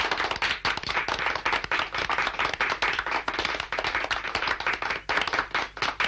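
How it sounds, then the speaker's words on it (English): A group of hands clapping continuously in a fast, uneven rhythm, dense overlapping claps at moderate volume with no voices over them. "You could clap louder than that."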